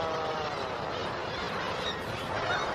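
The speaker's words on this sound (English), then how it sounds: "Iceland's coastal cliffs and islands attract 13 million seabirds." Dense, continuous chatter of a huge seabird colony on Iceland's coastal cliffs, thousands of overlapping calls blending into a steady wash of sound, with no voices.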